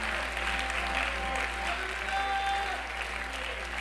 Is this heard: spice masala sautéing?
no